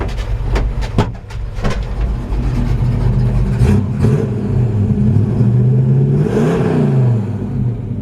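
The V8 engine of a 1947 International KB-2 truck rumbles and revs up and down in deep throaty pulls, loud and close, with a few sharp clicks early on.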